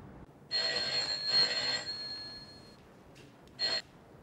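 A telephone rings in a domestic drama scene, two bursts of a bright electronic ring with a pause between, moderately loud and heard without talk.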